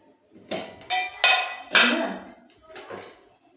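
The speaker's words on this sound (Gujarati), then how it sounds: "અહીંયા આપણે એક વાસણ લેશું." A cooking pot is taken out and set down in a home kitchen, giving a few loud metallic clanks and clatters spaced across a few seconds, with no talking.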